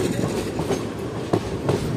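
Inside the Kaviguru Express from Howrah to Jamalpur near Bolpur, the carriage rumbles steadily with rhythmic clickety-clack of wheels over rail joints, close and continuous with no voices.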